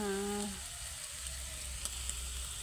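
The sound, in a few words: chicken sizzling while frying in pan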